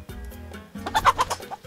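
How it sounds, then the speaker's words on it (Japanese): A chicken in the pixel-art game Pixel Piracy clucks sharply when attacked, a quick burst of several loud squawking clucks following a brief lower sound. "間違えてニワトリの方を攻撃しちゃったわ"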